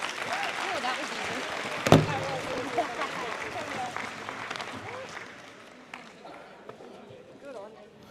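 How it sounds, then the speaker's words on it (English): An audience at a strongman press conference claps in steady applause that slowly fades, with a sharp thump near the start and voices mixed in underneath. "Give them a big round of applause."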